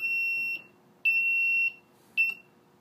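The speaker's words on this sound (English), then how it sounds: "that alarm would go off every minute" Three loud electronic beeps from the alarm on a homebrew electric brewing control panel: two long tones and a shorter third, with brief silences between them.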